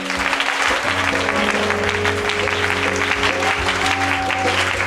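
A worship congregation claps together at a night crusade, a dense, steady wash of hands sustained throughout with music tones and room echo underneath, loud and continuous.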